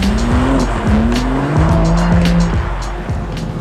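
A BMW M3 CS drifts on a closed test circuit, its engine roaring loudly and continuously while the tires squeal in long sustained wails, with no speech.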